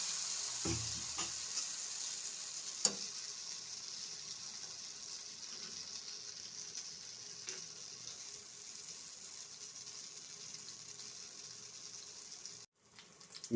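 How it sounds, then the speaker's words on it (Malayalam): Neyyappam batter frying in hot oil in a small iron kadai, with a soft, steady sizzle and hiss that runs on and a few faint clinks near the start. "അതിനുശേഷം എണ്ണ ചൂടാകുമ്പോൾ മാവ് ഒഴിക്കുക."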